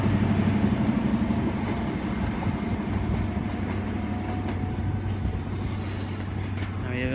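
A train rolls through Exeter St David's station on the Great Western Main Line on a Sunday evening, giving a continuous rumbling roar with faint wheel clatter at moderate distance that fades slightly toward the end.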